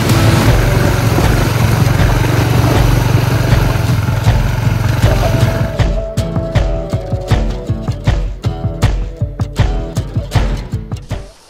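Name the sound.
Honda ADV160 scooter riding on test ride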